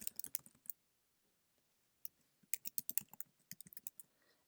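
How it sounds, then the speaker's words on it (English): Keys clatter on a computer keyboard as an email address is typed, with a quick burst of clicks, a pause of about a second, then a longer run of close, crisp keystrokes. "I'm going to type in my email address"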